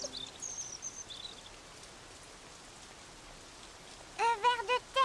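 Cartoon rain falls on a garden sandbox in a steady, soft hiss. Brief bird chirps break in at the start and a louder burst of chirping comes near the end.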